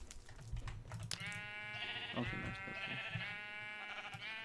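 A sheep in the video game Minecraft bleats in a single drawn-out wavering cry, close and clear, with a person speaking briefly before and during it.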